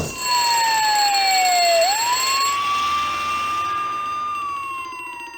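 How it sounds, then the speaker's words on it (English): A blast-protected fire alarm in the horror adventure game Harvester gives a loud, steady electronic wail. The tone slides down, then climbs back and holds before dropping again, with bright ringing overtones. It sounds alone and close. "Blast protected fire alarm."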